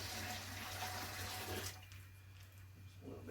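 Water pours into a container for bourbon mashing, a steady close splashing fill that fades off partway through.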